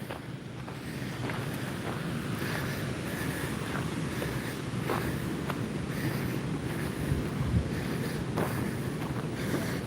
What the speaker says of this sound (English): So you can start hearing the roaring water here